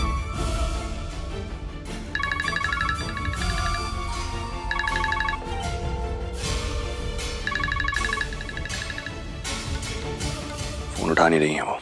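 A phone ringtone repeats in several bursts of a bright melodic chime, ringing unanswered amid dramatic background music in a Hindi TV serial scene.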